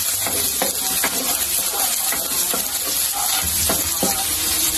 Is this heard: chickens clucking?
no